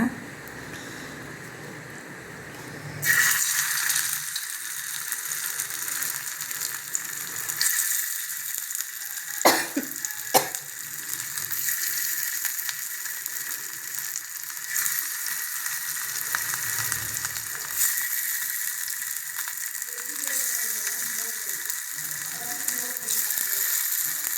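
Vada batter patties dropped into hot oil break into a loud, steady frying hiss that carries on for the whole stretch, with a few faint clinks of a utensil and no talking.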